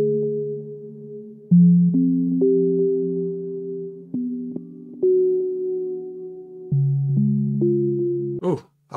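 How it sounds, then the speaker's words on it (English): Clean electric-piano-like tones play an arpeggiated chord progression with some chord notes left out, each note struck plainly and sustaining in a slow broken pattern, close and alone, ending in a brief rough burst. "So I might arpeggiate it to sound something like this and leave certain notes of the chord out"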